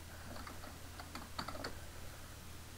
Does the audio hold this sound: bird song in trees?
no